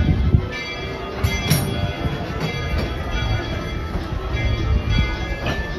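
A Walt Disney World Railroad train pulls into a station with a loud, close, steady rumble and clatter of rolling wheels, and a bell rings out over it now and then.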